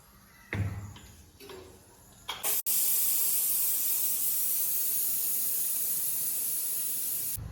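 A small household pressure cooker, used after cooking pulao, releases a loud, steady hiss of steam that starts abruptly after a brief clatter and continues without a break until the end, with no talking over it.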